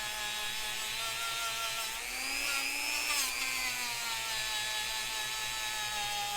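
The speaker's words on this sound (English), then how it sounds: "we'll give it another buffing. Put this on a slow speed, just to shine them up a little." Power buffer spinning at slow speed while shining guitar frets on a Fender neck, a steady faint motor whine with a brief rise in pitch midway as the wheel meets the metal, no voices.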